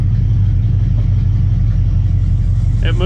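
A 1980 Chevrolet C10 Squarebody engine idles fast and steady after a fresh build, with a constant close low rumble throughout and a brief higher sound near the end.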